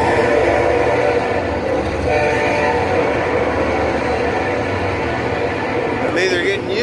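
Two freight trains roll past at the same time, making a dense, continuous rumble and rattle that stays loud and close throughout, with someone speaking over the noise.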